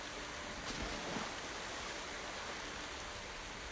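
Wading into water in Ghost of Tsushima, a steady rushing, splashing wash of water that stays even and fairly faint throughout with no talk over it.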